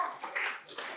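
A church gathering breaks into a short burst of audience applause, many hands clapping in an uneven, lively patter that swells and dips over about a second.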